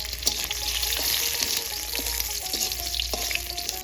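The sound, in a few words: garlic, marigold and gotu kola leaves frying in hot oil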